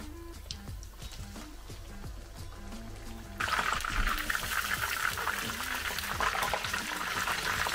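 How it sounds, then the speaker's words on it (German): Chicken pieces placed into preheated oil in a pan, frying with a loud, steady sizzle that jumps up sharply partway through and stays dense and crackling to the end. "Nachdem ich jetzt mein Öl schon mal vorgeheizt habe, kann ich schon unser Hühnchen in die Pfanne geben."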